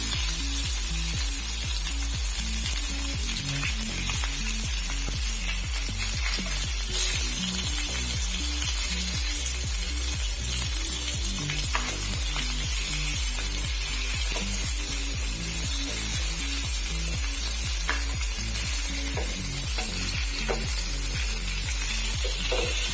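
Chilika dangala fish fries in a pan with a loud, unbroken sizzle that holds steady throughout, a constant hissing crackle over a low rhythmic hum.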